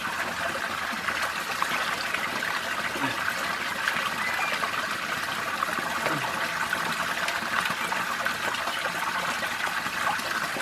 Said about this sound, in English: Well, I find a nice little brook.